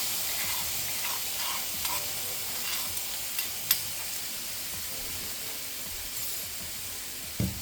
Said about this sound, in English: So now we get our chili garlic paste and just start to fry that off